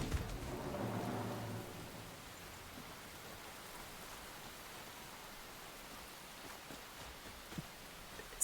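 Steady rain in the survival game Enshrouded, a soft even hiss that carries on alone for the whole stretch, with a low rumble in the first second or two and a couple of faint knocks near the end.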